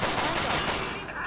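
Heavy, continuous gunfire from companions opening fire in Fallout 3, a dense rattling volley that holds steady and then thins slightly toward the end.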